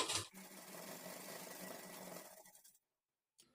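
A sewing machine stitches a puff sleeve at a quarter-inch margin in one steady, quiet whirring run of about two seconds, then stops, followed by near silence.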